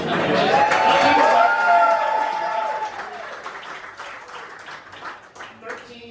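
Kids and adults applaud and make noise at a Granville soccer gathering, the clapping and cheering loud at first and then fading out, while people talk over it.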